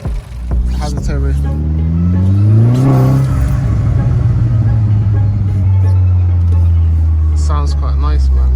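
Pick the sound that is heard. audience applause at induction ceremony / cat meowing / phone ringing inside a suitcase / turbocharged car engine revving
turbocharged car engine revving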